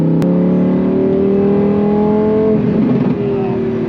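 A Lamborghini Huracan STO with a 5-liter V10 revs hard, its exhaust note climbing steadily in pitch, loud and close, then easing off as the revs drop near the end.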